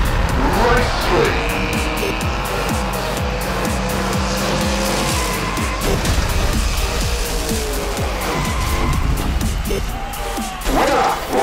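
Hot Wheels diecast cars racing down a track, a steady loud rush of rolling plastic wheels and clattering with sharp knocks throughout, busy and continuous across the run.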